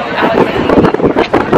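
Gusty wind buffets the microphone in uneven rumbling bursts, loud and close, with a voice faintly mixed in.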